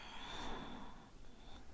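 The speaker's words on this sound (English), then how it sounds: "We'll take 3 deep breaths here." Slow, deep breathing during a chest-opening yoga flow, a soft, close breath drawn in and let out, faint and quiet with no talking.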